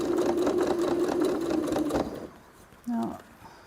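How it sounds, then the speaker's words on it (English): A sewing machine runs steadily as it stitches around a padded bag with wadding inside, then stops abruptly; a short voice follows in the quiet. "So I'll sew around here"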